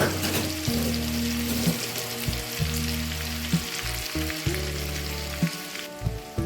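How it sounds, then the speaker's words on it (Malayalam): Finely chopped onions frying in hot coconut oil in a pan, a steady close sizzle with bubbling crackle and occasional stirring, no voices. "വെളിച്ചെണ്ണ ഒന്ന് ചൂടായി വരുമ്പോൾ നമുക്ക് അതിനകത്തേക്ക് കുറച്ച് ഉള്ളി ഇട്ട് കൊടുക്കാം."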